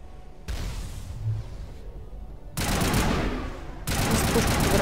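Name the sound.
gunfire in the video game Mass Effect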